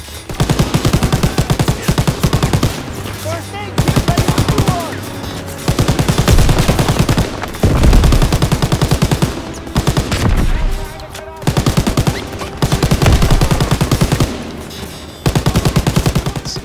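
Loud bursts of a mounted machine gun firing in Call of Duty WW2, long rattling volleys broken by short pauses and repeated again and again, close and dominant.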